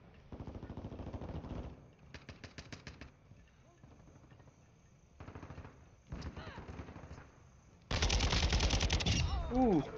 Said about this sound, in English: I could tap it and it'll shoot instead of holding it, and it killed the guy by accident